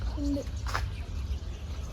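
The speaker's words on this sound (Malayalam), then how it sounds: "കുഞ്ഞു കിളികളുടെ സൗണ്ട് ഇഷ്ടം പോലെ ഉണ്ട് കേട്ടോ" A bird gives a single short hooting call from trees near a temple, heard once at moderate distance over a low steady background hum, with no talking.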